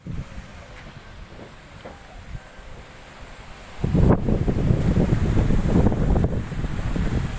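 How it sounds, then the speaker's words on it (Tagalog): Wind buffets the microphone during a fast downhill bike ride, starting moderate and then surging into loud, roaring gusts that continue to the end. "Oh, lakas ng hangin guys."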